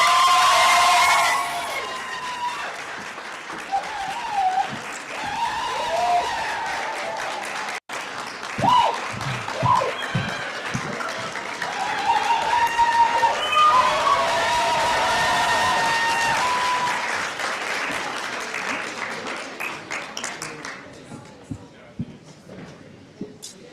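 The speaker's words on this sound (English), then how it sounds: "And Munira, big applause for Munira, please." A graduation ceremony audience breaks into loud, sustained applause with scattered cheers and shouts, filling a large hall for about twenty seconds before fading, with a presenter's voice briefly audible.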